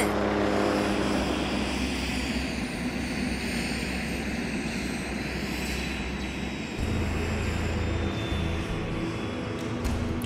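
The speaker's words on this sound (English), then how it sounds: "Do you guys hear that? A helicopter?" A Minecraft helicopter's loud, steady engine drone with rotor-like throbbing fills the whole stretch, holding continuously with a slight shift in tone partway through.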